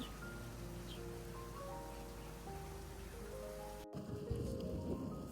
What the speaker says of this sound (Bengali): বৃষ্টি দেখি শুধু বৃষ্টি দেখি